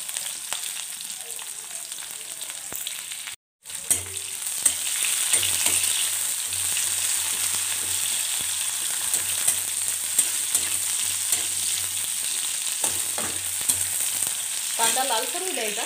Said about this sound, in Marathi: त्याच्यानंतर कढीपत्ता छान तेलात तळून घ्यायचा। त्याच्यानंतर मी कांदा टाकते।